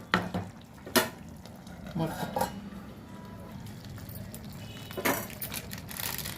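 Spoon scraping and clinking against a pan while eggplant and potato curry is stirred, a few sharp metallic taps over a low sizzle, close and fairly quiet.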